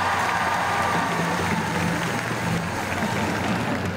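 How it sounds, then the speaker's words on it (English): A large audience claps and cheers at a school district kickoff event, a dense, continuous roar of applause that stays loud and even from start to finish. "Give him a round of applause."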